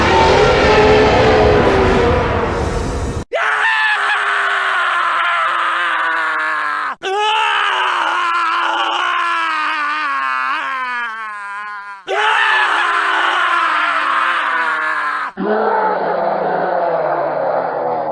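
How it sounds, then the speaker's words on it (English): In Sonic Adventure 2, the BioLizard boss roars in a series of long, loud, distorted wailing cries made from edited human screams, five separate drawn-out bursts broken by short gaps. "the BioLizard's roar is actually an edited version of Sonic and Shadow's screams from the Japanese actors"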